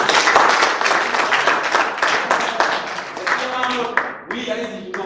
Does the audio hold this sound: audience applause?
yes